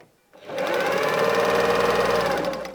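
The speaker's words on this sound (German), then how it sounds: "Wir nähen zu unserer querlaufenden Naht." Sewing machine running a steady, continuous seam on a fabric drawstring bag, a close, even motor hum with rapid needle chatter lasting a couple of seconds after a brief silent start.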